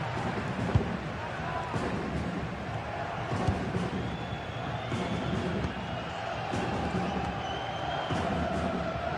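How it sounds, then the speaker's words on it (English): Stadium crowd noise from a sports game, a dense steady roar of many voices with occasional whoops and swells, continuous and distant-sounding throughout. "The crowd certainly think so. Just listen to them."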